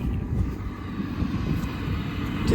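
An RV tankless on-demand water heater running, giving a steady low roaring rumble like a burner and fan, moderately loud and continuous with a slight swell at the end.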